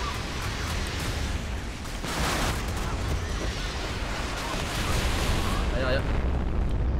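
Grenade launcher fire in a naval combat video game rumbles as a dense, continuous barrage of booming explosions, loud and unbroken throughout, with someone talking over it.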